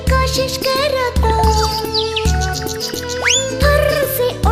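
Cartoon-style bird chirps and tweets ring out over a bouncy animated children's song about a sparrow, quick rising whistles and tinkly boings sitting on top of steady rhythmic music.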